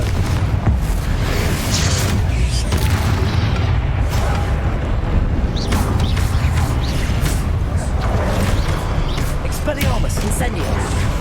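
The Confringo explosive spell in Hogwarts Legacy sets off loud booming blasts over a dense, constant wall of combat noise, with repeated bursts throughout.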